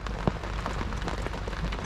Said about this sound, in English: We keep getting these showers